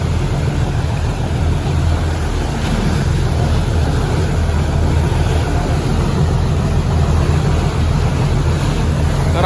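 Standing at the stern of a passenger boat off Santorini, a loud, continuous engine drone blends with churning waves and wind rush, steady and unbroken throughout with no talking.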